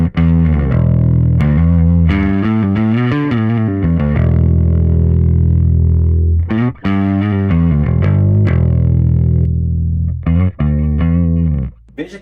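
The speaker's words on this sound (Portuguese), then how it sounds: "Veja que ele só dá um crunch, só uma ligadinha assim no overdrive." Electric guitar played through a first-stage overdrive pedal on a pedalboard, giving a light crunch: loud, sustained chords and picked notes with mild grit, ringing steadily with brief pauses near the middle and end.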